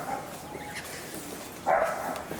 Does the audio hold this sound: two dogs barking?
yes